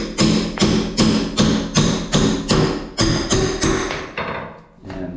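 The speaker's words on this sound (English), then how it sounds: "I'm just going in with a pry bar, and I'm doing this one-handed" Repeated sharp metallic strikes ring out as a pry bar is worked against a shower and tub surround during demolition, about a dozen evenly spaced loud blows, each decaying briefly, with no talk.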